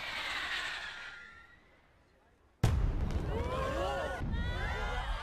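Fireworks in an anime episode start with a sudden sharp bang, then crackle and whistle in a dense burst after a fading earlier volley.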